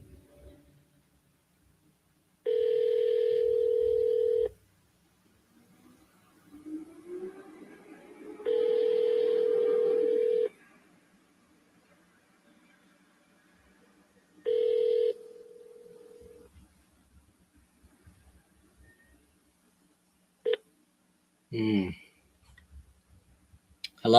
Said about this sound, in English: We're going to get somebody on the phone.